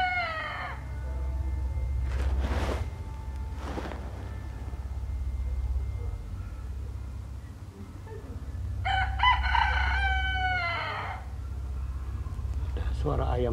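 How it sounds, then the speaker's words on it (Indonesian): A rooster crows twice, once briefly at the start and again more fully midway, over a steady low rumble and some background noise. "Ada suara ayam asli,"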